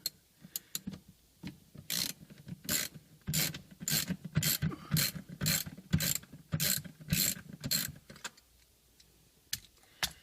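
A ratchet loosening four bolts while removing the clutch from a stick-shift car, heard as repeated close bursts of rapid clicking separated by short pauses.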